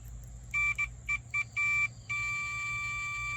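A multimeter set to continuity gives clear electronic beeps while RCA cable wires are probed: several short tones, then a longer one broken by gaps, ending in a sustained beep with faint background hum.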